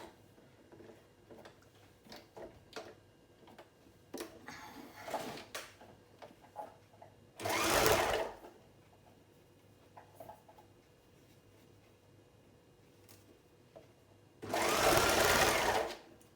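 A sewing machine stitches a fabric scrunchie in two short, loud bursts of rapid whirring, each lasting about a second. Quiet handling clicks and rustles fall between the bursts.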